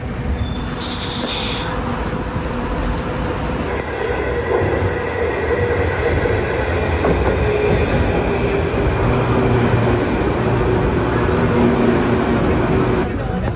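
A metro train rumbles steadily through the Athens International Airport station in Greece, with low mechanical drone and a brief high squeal early on, while voices murmur in the background.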